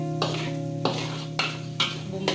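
Blended spice paste sautéing in a pan, a low steady sizzle with a tonal hum underneath, broken by four evenly spaced scraping stirs of a utensil against the pan.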